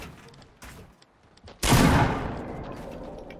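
Fortnite video game gunfire bursts in with a loud, sudden crack that rings and decays slowly, after a stretch of faint rattling shots in the background.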